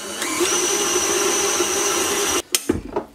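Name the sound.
mixer kneading lemon brioche dough in the bowl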